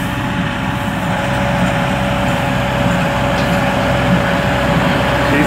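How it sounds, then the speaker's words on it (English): A new John Deere 6120R tractor runs steadily while baling horse hay, its engine a continuous loud, low rumble with a faint steady whine and no voices over it. "Wanted to show a little bit of the John Deere baling, our new tractor"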